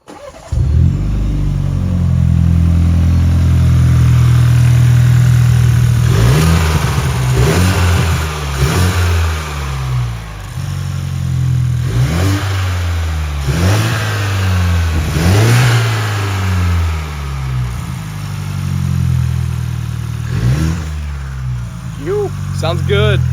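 BMW 335i with an N54 engine and cone filter intake starts up, then revs repeatedly in sharp bursts between steady idle, loud and close, with no talk over it.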